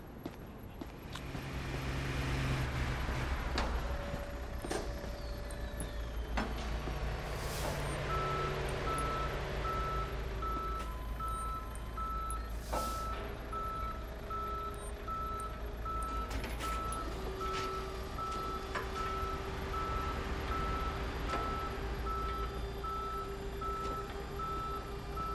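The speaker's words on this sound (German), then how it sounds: "Schicken Sie mir einen Abschleppwagen an meine aktuelle Position." A tow truck in a police simulator video game sounds steady, evenly spaced reversing beeps over a low engine rumble, with faint clanks and mechanical noises mixed in throughout.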